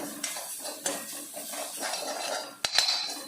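Grated coconut is stirred and roasted in a hot pan over low flame, with a spoon scraping and clinking against the metal in repeated strokes over a soft sizzle, plus one sharp knock near the end.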